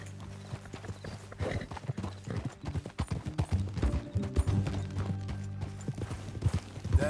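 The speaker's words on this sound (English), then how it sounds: "That a new horse?" Repeated hollow clip-clop of horse hooves, steady and fairly close, walking at an even rhythm over a low background hum.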